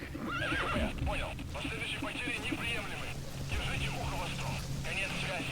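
Horse whinnying repeatedly in Metal Gear Solid V, a video game, with hoof clip-clops and a steady game ambience underneath, fairly loud and close throughout.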